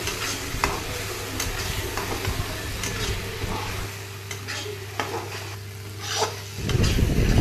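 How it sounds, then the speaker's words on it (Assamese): A spatula stirs potatoes with garlic, ginger and chilli paste in a frying pan. Frequent scraping clicks ride over a steady sizzle, close and continuous, with no talking. "এতিয়া পিচি থৈ দিয়া নহৰু আদা আৰু জালুকৰ পেষ্টটো দি গোটেইখিনি একেলগে লৰাই দিছো"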